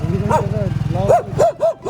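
Dogs bark and yip in short bursts close by, mixed with some talking and whimpering sounds.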